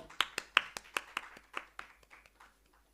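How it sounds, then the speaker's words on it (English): Applause at an international science conference for a speaker, heard as a handful of distinct sharp claps in a loose rhythm, close and fairly loud, thinning and fading out after about two and a half seconds. "Please give ma'am a huge round of applause."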